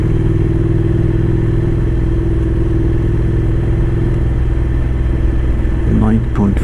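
A motorbike rolls along a gravel dirt track in Norway, its engine droning loud and steady with wind rush and road rumble, and a rider speaks over it near the end.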